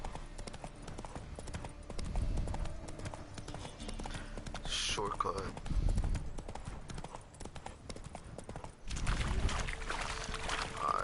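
Hooves clip-clop steadily as a horse moves along in The Witcher 3: Wild Hunt, a rhythmic trotting beat under game ambience, with someone talking briefly over it.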